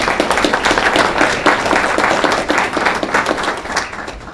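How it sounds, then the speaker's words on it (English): A room of attendees at a school board meeting claps continuously, dense and fairly close, with the patter holding steady across the whole stretch. "Applause for each one, please."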